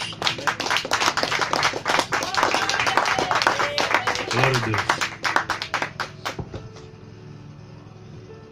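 Congregation clapping in praise to God at a Portuguese-language church gathering, dense loud hand claps with voices and talk over them, fading out toward the end.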